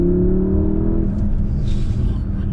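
A 2019 Porsche Panamera Turbo accelerating hard with boost engaged, a loud steady engine roar with rising harmonics in the first second, then a broad rumbling drone of road and wind noise that continues to the end.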